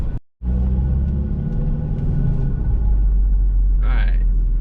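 Saab 9-3 with a check engine light and a major transmission fault on a test drive, a steady low rumble of engine and road noise inside the cabin, with a brief dropout near the start and a short high squeak near the end.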